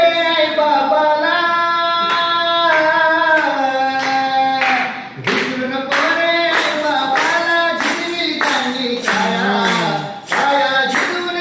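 Audience clapping at a poetry gathering in Satara, a steady wash of applause running throughout under a prominent sung or chanted voice with sustained melodic tones, with brief dips in the middle.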